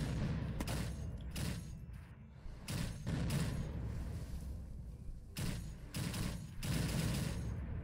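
Bursts of machine gun fire in the survival video game Unturned, loud and sustained, coming in several long volleys separated by brief pauses.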